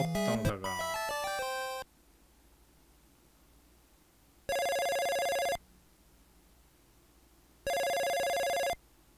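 Chiptune telephone ringing from the Famicom detective game Jinguji Saburo: a burst of 8-bit jingle notes, then two loud, electronic buzzing rings, each about a second long and spaced a few seconds apart over a low hum.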